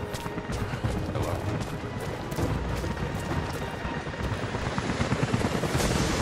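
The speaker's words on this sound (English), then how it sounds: "helicopters are headed your way." Steady low rotor thumping and engine roar of helicopters approaching in the video game Rise of the Tomb Raider, loud and continuous throughout, with a dense rumbling wash and no voices.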